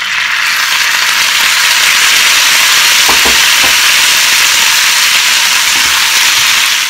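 Tomatoes dropped into a pan of garlic already frying to golden, raising a steady, loud broadband sizzle with a few brief stir clicks partway through, continuous throughout.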